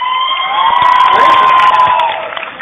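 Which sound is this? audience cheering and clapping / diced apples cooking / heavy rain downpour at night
audience cheering and clapping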